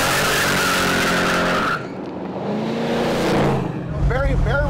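A Chevy Nova pro street car roars loudly up close, its engine droning before tires squeal and skid, then the motor revs again, ending with rising squeals at the finish.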